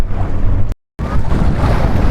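Sea water splashes and surges near a small boat, with loud broadband wash and wind buffeting the microphone, broken by a brief silent gap before the churning resumes.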